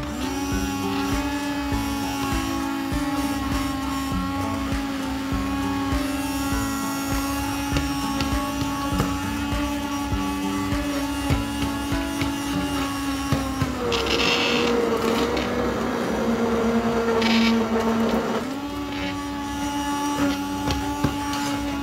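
A steady motorized whir from a hand mixer runs throughout, its pitch shifting and roughening midway as the blades churn through thick red lentil soup.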